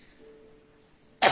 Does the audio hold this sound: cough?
yes